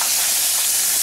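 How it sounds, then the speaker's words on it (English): Hot grease being poured off from a pan into a bowl, a constant bright hiss and sizzle, steady and close throughout, with no pauses. "I'm just going to pour off just a little bit of grease."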